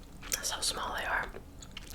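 Close, soft chewing of small sour chewy candies, with sticky, wet smacking in a quiet room and faint whispery breath mixed in.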